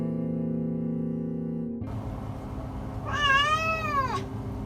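A badly burned cat rescued from the Camp Fire in Northern California gives one drawn-out, plaintive meow, loud and close, after a sustained background tone cuts off.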